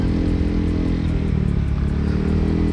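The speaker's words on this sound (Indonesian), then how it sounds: "Tapi kenapa istri gua nggak suka ya asal knalpot kayak gini?" Honda PCX 160 scooter-style motorcycle with a modified aftermarket exhaust, idling and revving steadily close up, a continuous loud low throb with a rough rasping edge and no speech over it.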